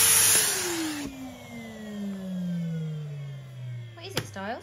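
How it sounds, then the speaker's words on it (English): A Hoover Nuvac vacuum cleaner's motor whines and then winds down with a steadily falling pitch, fairly close. A voice briefly breaks in near the end. "It's a Hoover. There's two now."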